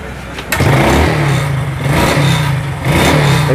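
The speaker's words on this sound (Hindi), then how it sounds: "तो चलो बाइक को स्टार्ट करते हैं और आपको दिखाते हैं।" A Hero Glamour FI motorcycle fitted with a carburettor fires up after a brief crank, then its engine revs loudly and steadily up close, dipping briefly before rising again near the end.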